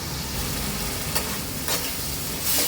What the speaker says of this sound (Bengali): এটা ভালো করে আমি একটু কষিয়ে নেব।